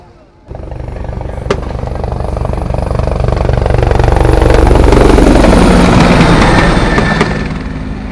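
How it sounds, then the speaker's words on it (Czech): A police helicopter makes a low flyover at a public event, its rotor thud and turbine whine swelling loud and close within a second of the start, peaking mid-pass and easing slightly as it moves away. "A nyní jste již viděli nízký průlet policejního vrtulníku se členem zásahové."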